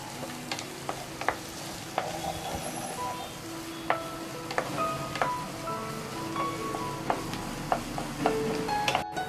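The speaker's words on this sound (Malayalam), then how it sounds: "ഇനി ഇതിലേക്ക് നമ്മൾ എടുത്തു വെച്ചിരിക്കുന്ന ഇഞ്ചി വെളുത്തുള്ളിയുടെയും പച്ചമുളകിൻ്റെ പേസ്റ്റ് ആഡ് ചെയ്ത് കൊടുക്കാം. എന്നിട്ട് ഇതും കൂടി നന്നായിട്ട് വഴറ്റി കൊടുക്കാം." Onion sautéing in a pan with ginger, garlic and green chilli paste for a chicken samosa filling: a continuous soft sizzle broken by sharp scraping clicks of a spoon stirring against the pan, close and alone.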